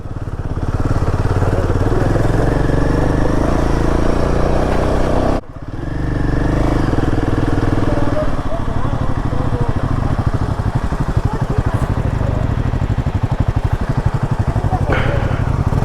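Motorcycle engine running steadily on a rough off-road mountain track on the Adi Kailash route, loud and close, with rattling and clatter over bumps and a brief dip partway through.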